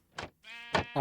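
Sheep bleat close by in a video game sheep hut, three or four short wavering calls in quick succession, with no other sound.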